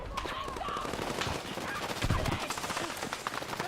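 Rapid gunfire in Battlefield 6, with dense automatic bursts of sharp cracks crackling steadily throughout, mixed with other battlefield noise and some voice underneath.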